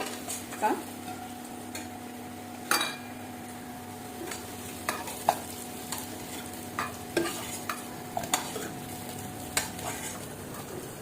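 Potatoes fry quietly in oil in a wok, with a steady soft sizzle broken by occasional light clinks and scrapes of a spatula stirring against the pan.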